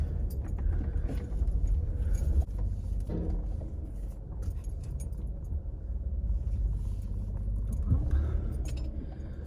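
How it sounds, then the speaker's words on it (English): A car rolls slowly into a loading area to have paint samples and plants put in, producing a steady low engine rumble throughout, with faint clinks and rattles over it. "We'll drive on in and they will put everything in here for us"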